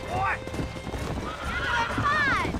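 A horse neighs and whinnies with clip-clopping hooves during a horse-taming minigame in the Red Dead Redemption video game, the rider balancing on the animal; close, loud, steady, with talk over it.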